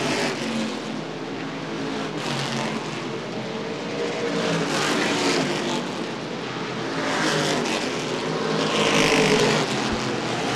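Street stock cars racing on the Winchester Speedway oval, engines roaring loudly and continuously as the pack passes, with rising and fading surges of revving, no talk.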